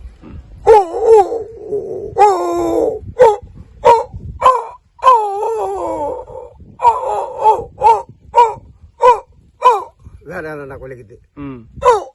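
A man imitates a dog with his voice, giving a run of barks, yips and whimpers in short bursts that are loud and close, with a few spoken words between them.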